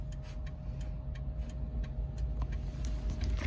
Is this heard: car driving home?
yes